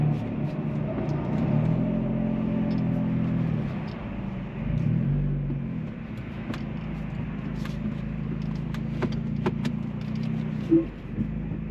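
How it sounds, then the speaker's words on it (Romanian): A car idles and rumbles steadily at low pitch as it manoeuvres out of a parking spot, its engine swelling briefly a couple of times, with faint scuffs and light knocks over the top. "Acum trebuie să scoate mașina de aici."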